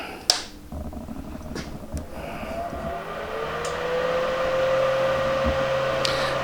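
Electric motor of a belt grinder on a variable frequency drive spins up, its steady whine rising in pitch over a few seconds and then holding level, with a few sharp clicks and knocks early on.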